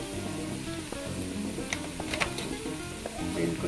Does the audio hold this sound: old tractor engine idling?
no